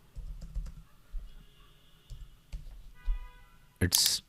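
Fingers type on a computer keyboard, a close run of soft key clicks and taps in an uneven rhythm, with a louder burst of noise at the end.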